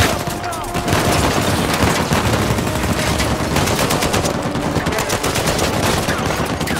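Gunfire in the video game Uncharted 4 as a dense, continuous stream of rapid automatic shots that rattles loudly without a break.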